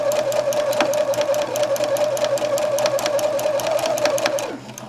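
A sewing machine runs close up, stitching the hem of a shirt. It keeps a fast, even mechanical whir with a steady pitch and rhythmic ticking, then winds down at the end.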